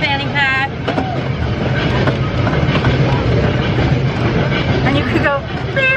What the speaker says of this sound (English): Driving the train.